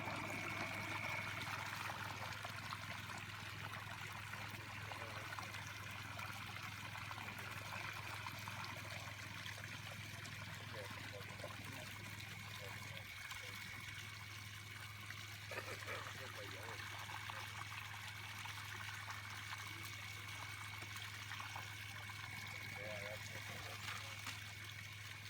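Water swirling and trickling through a gold sluice cell, a faint continuous watery burble over a steady low hum, with someone talking quietly through much of it.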